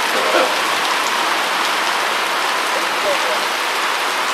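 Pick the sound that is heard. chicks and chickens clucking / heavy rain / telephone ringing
heavy rain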